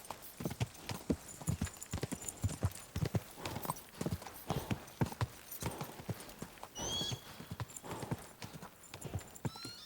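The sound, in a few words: horse galloping in video game Kingdom Come: Deliverance II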